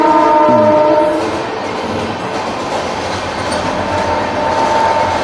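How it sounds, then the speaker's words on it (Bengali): A passing train rumbles loudly and steadily throughout, with a brief horn-like tone near the start and continuous rail noise, heard alone without talk. "ট্রেনটা যাক"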